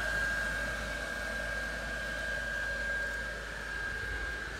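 Steady electric blower motor inside a Gemmy airblown inflatable snowman globe igloo, a constant whooshing whir with a faint tonal hum, running alone and unchanging.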